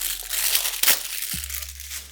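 Crinkly crumpling and tearing of thin polythene wrap being pulled off a refurbished iPhone 12 box, close and soft with short crackling bursts and one sharp rip.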